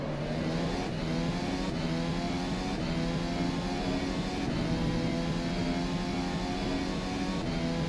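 A Formula SimRacing development race car engine in rFactor 2 driven around Spa, a constant loud high-revving drone with brief shifts in pitch and no talk over it.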